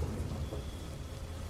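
Heavy rain pours steadily with a deep low rumble of thunder underneath, a dense continuous wash at night, with no voices.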